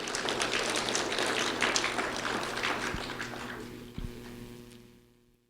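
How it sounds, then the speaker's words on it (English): An audience applauds a second-grade student at a sheriff's office recognition event, a dense patter of clapping that gradually thins out and fades to silence. "a round of applause for Kevin Yacht Ixcoy"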